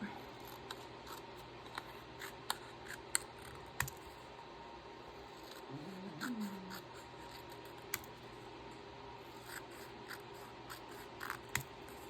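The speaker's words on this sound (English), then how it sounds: "let's cut some of these sayings out" Scissors snip through printed paper sayings for a notebook in a quiet room, a series of faint, sharp clicks and crisp cuts spaced irregularly, close by, with soft rustling of paper between them.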